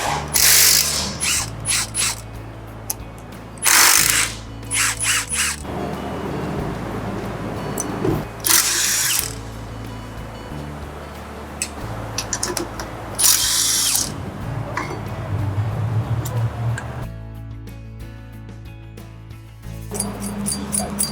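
Ratchet wrench cranking a bolt to press a seized rear brake rotor off the hub on a new Toyota 4Runner, with bursts of rapid clicking separated by pauses and steady workshop background noise.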